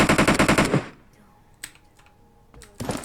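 A rapid automatic gunfire burst from the PUBG Mobile shooter game, loud and rattling for under a second, followed by a few sparse clicks and thuds.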